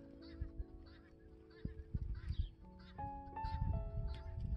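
Geese honk on a horse farm that also keeps guinea fowl and bantam chickens, a run of repeated nasal honks close by with several birds overlapping as the calls grow louder.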